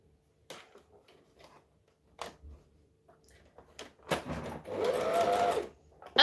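Overlocker sewing machine hemming a sleeve, with sharp handling clicks and taps before a short whirring burst of rapid stitching near the end.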